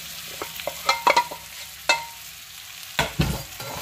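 A spoon stirs plantain peel into fried onions in a pan, with a string of scraping clinks and soft sizzling, irregular strokes clustered near the start and again toward the end.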